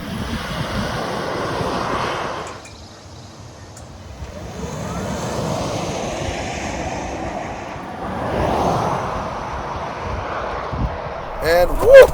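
Ford F-150 Lightning electric pickup launching hard from a standstill, a steady rising road and motor rush heard from inside the cab, with a brief dip before building again; no one speaks during it.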